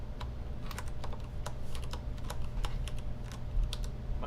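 Rapid, irregular clatter of keys on a computer keyboard, close and fairly steady, with bursts and brief pauses as someone types alone without speech.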